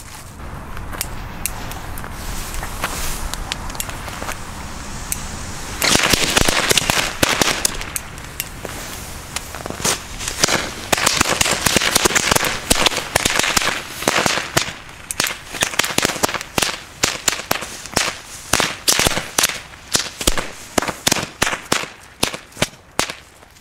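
A long, dense barrage of firecrackers popping and crackling in rapid, irregular bursts, loud and sharp, continuing for over twenty seconds with no talking.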